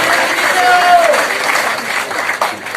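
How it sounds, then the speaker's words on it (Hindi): A crowd at a celebration event in Indore claps loudly and continuously, a full, even burst of applause that tapers slightly toward the end. "जोरदार तालियां"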